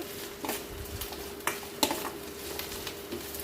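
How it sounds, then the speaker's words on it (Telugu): Ginger garlic paste frying with onions in a pan for chicken pulusu: a soft continuous sizzle under intermittent scraping and clinking of a metal spoon against the pan. "ఇప్పుడు దాంట్లో అల్లం వెల్లుల్లి పేస్ట్ వేసేసి బాగా కొంచెము పచ్చి వాసన పోయేంత వరకు వేయించుకోవాలి."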